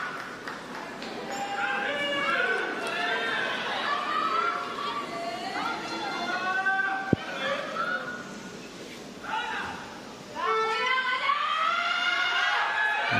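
Spectators chatter and call out across a Paralympic goalball arena in Paris, a continuous hum of overlapping voices with louder shouts rising and falling and a brief dip before the noise swells again.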